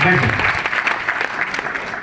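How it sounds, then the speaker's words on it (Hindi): Loud crowd applause, dense clapping filling the space, with voices mixed in. "मैं जोरदार तालियां सर के लिए चाहूंगा।"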